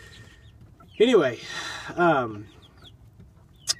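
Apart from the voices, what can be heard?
chicken clucking inside the coop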